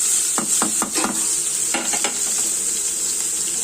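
Crushed garlic mixture with mustard seeds fries in oil for a plantain stir-fry, a bright continuous sizzle broken by quick clusters of spoon scrapes and stirring taps.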